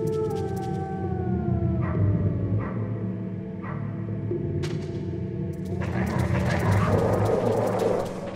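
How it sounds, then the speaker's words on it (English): Wolf dogs in the Metal Gear Solid video game growl, whimper and yip through a steady game soundscape, with sharp repeated bursts and a louder, busier stretch near the end. "Stop that, stop growling at me"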